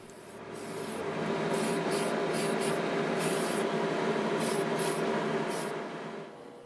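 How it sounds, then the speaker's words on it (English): A spray can lays light grey primer onto the plastic body of an Italeri 1/12 Bugatti Type 35B model car, sending out about eight short, close hissing bursts over a steady, softer airy rush. "The whole outer body is then primed using a spray can."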